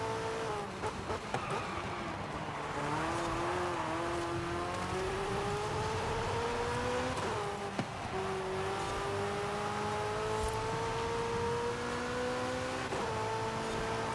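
A Formula Drift-built hypercar in Forza Horizon 5 drones at high revs, its engine pitch climbing through long gear pulls with brief dips at each shift, steady and close with no talk.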